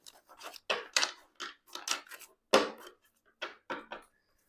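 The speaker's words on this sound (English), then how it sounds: "So I'm just going to shuffle the cards here." Cards are shuffled in a series of quick papery riffles and slides, close by, coming in short bursts with brief pauses between them.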